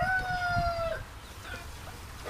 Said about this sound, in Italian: Attualmente ci sono un gallo adulto, due galli, un paio di giovani galletti e circa 5 galline adulte.